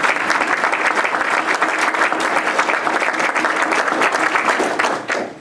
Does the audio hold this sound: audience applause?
yes